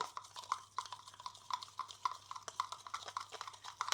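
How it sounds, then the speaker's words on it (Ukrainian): Pancake batter of sour cream and milk whisked in a bowl, close up, with fast rhythmic wet clicks and sloshes repeating steadily throughout and no voices. "Далі тщательно перемішуємо"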